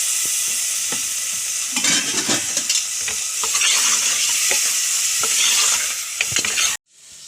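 Tomatoes stirred into sizzling ground masala in a pan for cauliflower curry, a steady loud fry hiss with repeated scraping stirs throughout, cutting off abruptly near the end.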